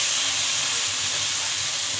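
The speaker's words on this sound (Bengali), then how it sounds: "এবার অল্প একটু টমেটো সস অ্যাড করলাম, দিয়ে আবারও নাড়াচাড়া করে নিলাম।" Steady, loud sizzle of a pan frying a simple pointed gourd and potato curry base with curry leaves and tomato sauce, a continuous hiss running unbroken throughout.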